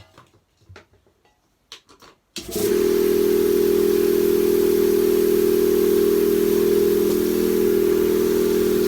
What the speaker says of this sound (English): Let's turn the old compressor on, so we need the compressor running.